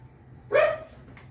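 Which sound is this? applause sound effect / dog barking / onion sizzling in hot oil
dog barking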